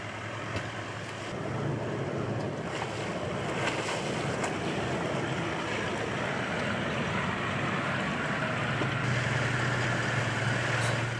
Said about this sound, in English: We've just gone through a serious water crossing